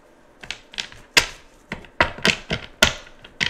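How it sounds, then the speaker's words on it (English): Tarot cards shuffled by hand, a series of sharp close taps and riffling snaps in an uneven rhythm, loud and alone with no talking. "Get a good shuffle going."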